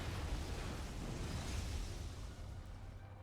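A destroyed Eradicator unit explodes in StarCraft II, a sustained rumbling blast with a debris-like roar that slowly fades, fairly quiet overall.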